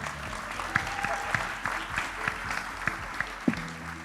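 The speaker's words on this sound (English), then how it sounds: "a last round of applause for our wonderful Master of Ceremony" Brief, scattered applause rises in a conference plenary hall for the Master of Ceremony, fairly faint, with a few sharper individual claps standing out over a low room hum.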